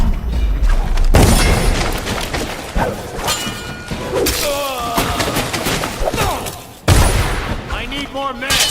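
Gunfire and heavy booms in Dishonored, loud sharp reports breaking out at the start and again near the end, mixed with shouting voices and clanking action sounds.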